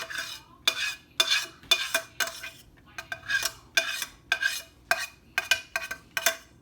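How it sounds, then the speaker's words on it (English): Drained hamburger meat is scraped from a pan into a bowl for a tater tot casserole, with a steady run of close metal scrapes and clinks of a utensil against cookware, about a dozen strokes with no talk. "Next is we're going to transfer it into this bowl. Get all your hamburger out."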